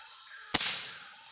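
A single sharp gunshot cracks out during a night bird hunt, a sudden broadband blast followed by a short decaying echo over quiet outdoor background.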